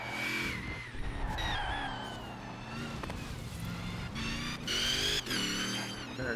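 A car engine in the racing video game Forza Horizon 4 drones and revs steadily throughout, with tonal whines and background game sounds layered over it, fairly loud and continuous.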